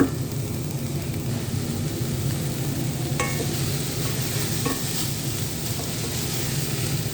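Pasta cooks in a pan as the water boils off and oil goes in, giving a steady, dense sizzle with a few light stirring scrapes and taps heard up close.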